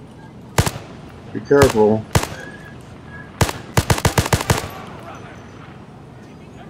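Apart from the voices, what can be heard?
gunfire in a VR shooter video game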